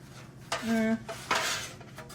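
Metal utensil scraping and clanking in a pan of chicken and broccoli, a few distinct close scrapes and knocks with short pauses between them.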